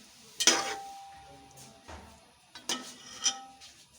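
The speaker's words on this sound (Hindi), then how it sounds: "अब हम ऑयल में मटन डालेंगे और इसको भून लेंगे।" Mutton being fried in oil in a pot, with a few sharp metallic scrapes and clinks from stirring over a faint low sizzle, spaced irregular and close.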